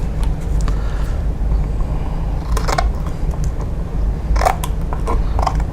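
Short scissors snip through overlapping roof scallops on a hexagonal model roof, giving a series of close, crisp cuts in small irregular bursts over a low steady background hum.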